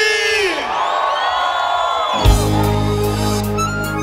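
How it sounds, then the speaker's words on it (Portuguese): A crowd at a live concert in Boca do Acre shouts, whoops and cheers loudly, then a deep bass-heavy music swell sweeps in partway through and carries the noise to the end. "Cadê o gritinho da galera de Boca do Acre aí?"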